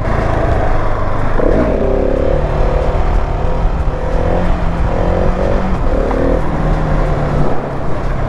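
A 2022 Husqvarna 701 Supermoto single-cylinder motorcycle held in a wheelie, its engine loud and close, droning steadily with the pitch rising and falling as the throttle is worked.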